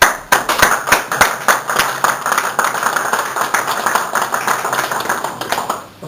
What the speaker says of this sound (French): qu'on s'applaudisse